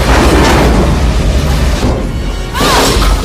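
A huge explosion from the alien-invasion film Independence Day, a loud sustained roaring blast with crashing debris that dips briefly and then surges again.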